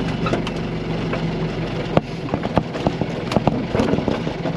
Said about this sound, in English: Let's jump the old tractor off this morning.